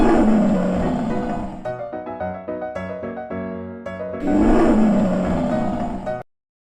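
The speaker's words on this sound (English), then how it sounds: "This is the lion." A lion roaring, long loud rumbling roars with a series of short grunting pulses between them, close and alone.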